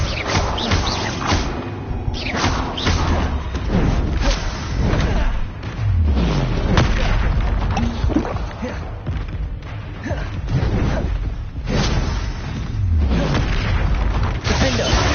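Repeated booming blasts of the Bombarda explosion spell in the Hogwarts Legacy video game, loud thuds and whooshes coming in quick succession amid other combat spell effects, with a voice calling out spell names throughout.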